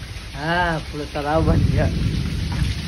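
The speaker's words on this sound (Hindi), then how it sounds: "इतना तेज बारिश हो रहा है" Heavy rain pours steadily onto a house that is flooding inside, a dense hiss of water under loud, excited speech from a man.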